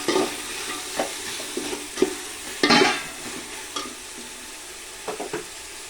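Kohlrabi pieces fry in a hot pan with a steady soft sizzle, broken by several sharp scrapes and clatters of a spoon stirring them, one louder burst near the middle.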